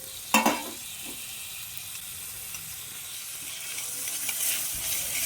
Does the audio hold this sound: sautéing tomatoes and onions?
yes